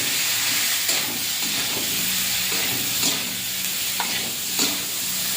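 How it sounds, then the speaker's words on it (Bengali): Turmeric, cumin and coriander paste with tomato is stirred in a hot pan, making a constant loud sizzling hiss with a few soft scraping strokes at irregular intervals; no voices. "দিয়ে দেবো টমাটো দিয়ে দেবো, দিয়ে নেড়ে চেড়ে জল দিয়ে দেবো"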